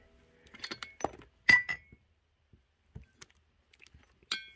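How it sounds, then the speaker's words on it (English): Old glass bottles clink and knock together as they are handled inside an abandoned home, a few sharp close chinks and clatters in short bursts separated by near silence. "There's a lot of old glass in here."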